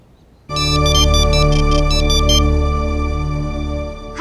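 Mobile phone ringtone playing loud and alone, a sustained electronic melody with a bright pulsing upper pattern for the first two seconds, then holding steady before cutting off.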